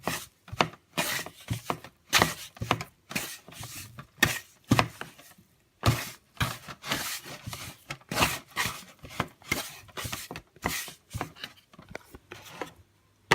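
Bread roll dough is kneaded by hand in a quick, irregular series of soft slapping, squishing and rubbing strokes, close and fairly quiet, with no talking.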